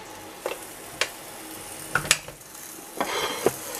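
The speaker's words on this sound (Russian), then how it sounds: "Поджариться отправляем." Food sizzling and frying in a pan during home cooking in Spain, a soft continuous crackle with several sharp pops and stirring scrapes close by, no talk.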